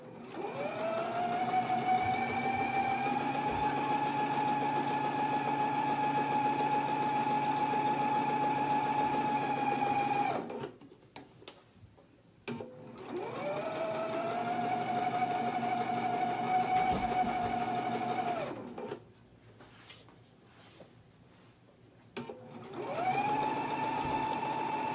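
A sewing machine runs three sustained stitching passes along a bodice's neck edge and dart legs, each run of steady whirring separated by short quiet pauses.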